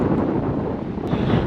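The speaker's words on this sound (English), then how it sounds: "Wow, super windy." Strong outdoor wind buffets the microphone in a steady low, roaring rumble that fills the whole clip, with no other sound standing out.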